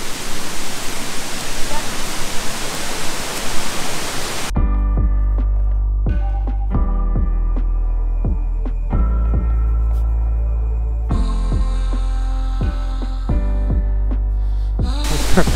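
Satieng waterfall, about ten metres high, inside a forest in Ratanakiri, Cambodia, roars with broad steady rushing water for several seconds, then gives way to a tonal musical bed with regular sharp beats.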